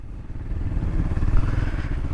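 A KTM Duke 200 motorcycle engine runs steadily up close, a low throbbing rumble with slight rises in revs and no talking.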